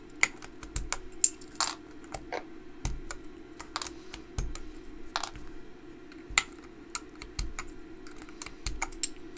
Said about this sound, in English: I need to take strategically off a few keycaps so I can access these screws